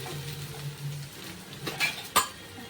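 Chopped onions sauté in oil in a pan with a soft, low sizzle, broken by a few sharp clinks and scrapes of a utensil against the metal near the end.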